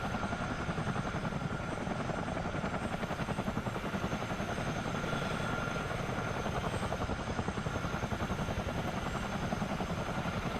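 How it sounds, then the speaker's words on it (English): A CH-47D twin-rotor, twin-engine helicopter in a flight game thrums with a dense, steady rotor chop and turbine whine, loud and unbroken throughout with no voices. "Twin engine, twin rotor helicopter."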